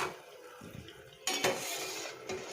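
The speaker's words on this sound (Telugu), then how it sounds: "ఇప్పుడు తీసేసి వేరే బౌల్లోకి వేసేసుకుందాం." Fried bondas are lifted out of hot oil with a metal utensil and dropped into a bowl, giving faint scraping and clinking over a soft background sizzle, with a brighter clatter midway.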